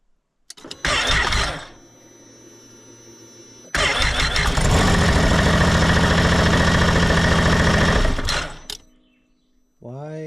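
Engine turned over with the key during equipment maintenance: a short burst of cranking, a pause, then a longer sustained crank-and-run for about four seconds before it cuts out, loud and close.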